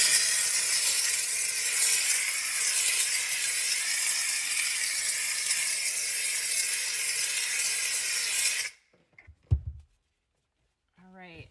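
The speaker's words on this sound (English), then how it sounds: "then I grab my steamer and a dry microfiber towel" A handheld steam cleaner hisses steadily at close range on car interior plastic, a continuous broadband jet lasting about eight seconds before cutting off abruptly, followed by a few faint clicks and handling noises.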